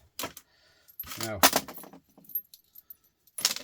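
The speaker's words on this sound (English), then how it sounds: "So we have them screws can go into the shred pile." Metal screws taken out of 3-pin plugs clink and jingle in a few short bursts, close and bright, with quiet gaps between them and a voice talking in between.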